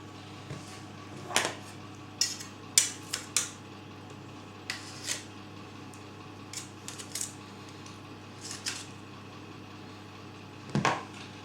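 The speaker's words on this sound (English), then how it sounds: "you're just grating that on the Onto the flour" Margarine grated by hand onto flour for vegetarian Cornish pasty pastry, heard as scattered short scraping strokes, some in quick clusters, against a quiet kitchen background.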